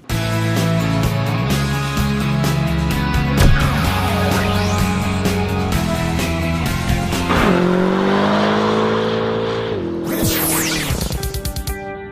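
A 2009 Chevy Cobalt SS launches hard from 0 to 60 mph, its engine revving up loud and close through several gear changes with rising pitch sweeps, a brief tire chirp near the end.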